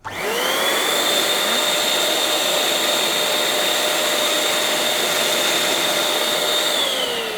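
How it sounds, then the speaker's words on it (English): A steady, loud whoosh of an electric inflator pushes air into a Crystal Clearz balloon, holding one even blowing tone for about seven seconds with no talk. "I'm going to inflate it with air because that makes the removal of the valve a lot easier"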